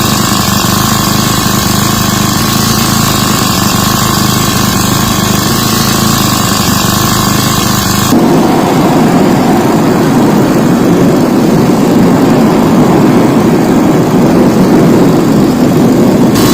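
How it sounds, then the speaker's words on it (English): A loud motorbike engine driving a propeller drones steadily throughout, shifting to a rougher, buzzier tone halfway through. "he made a propeller for his motorbike"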